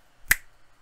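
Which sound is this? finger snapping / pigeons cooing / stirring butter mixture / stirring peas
finger snapping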